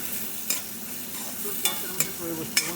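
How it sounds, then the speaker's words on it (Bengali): Onions frying in a pan while being stirred, a steady low sizzle broken by four sharp scraping strokes of the spoon, close and without talk. "এই পেঁয়াজটা ভাজা হচ্ছে।"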